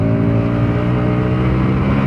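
A close, loud motor engine drones steadily for a short stretch during a street race between a scooter and a motorbike, with no voices over it.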